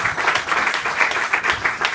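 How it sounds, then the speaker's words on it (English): An audience at a community event speech applauds, with dense, steady clapping that carries on for a couple of seconds at a fairly loud level. "give them a round of applause"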